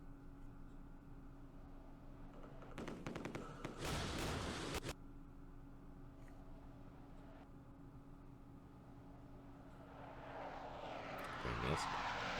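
Airstrike aircraft in a Campaign Series Vietnam war game, set around the 1968 Battle of Khe Sanh Village. A loud roar of aircraft passes through in the middle, then a second rushing engine sound swells toward the end over quiet background noise.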